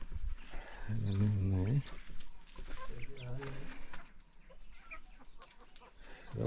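Chickens cluck and squawk in bursts amid a busy background, with a low rumbling sound early on and some voices nearby.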